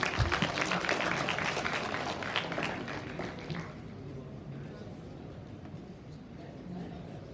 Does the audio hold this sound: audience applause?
yes